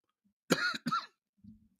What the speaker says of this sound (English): My cold is now in my chest, so I'm coughing like crazy.